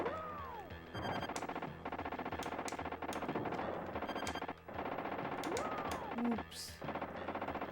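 Rapid machine gun fire from the SNES version of T2: The Arcade Game, repeated bursts with explosions and game effects, loud and busy throughout, with a brief spoken remark.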